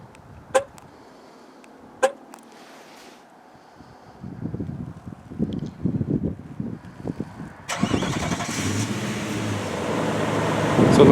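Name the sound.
pickup truck engine running after remote start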